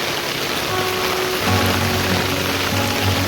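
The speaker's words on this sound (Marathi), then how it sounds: "फोर्सने पाणी पडत असेल म्हणजे पाऊस पडत असेल" Heavy monsoon rain pours steadily over a village, a dense, loud hiss with a low droning hum joining partway through.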